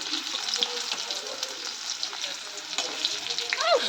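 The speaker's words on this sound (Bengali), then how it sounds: "তেলটা মোটামুটি গরম ছিল, গ্যাসটাও কমানো ছিল। এখন কি সুন্দর মুচমুচে বড়াগুলো হচ্ছে" Fritters (bora) deep-fry until crisp in moderately hot oil over a low gas flame, giving a continuous crackling sizzle with small stirring clinks and a faint background voice.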